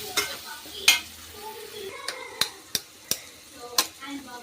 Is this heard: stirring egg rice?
yes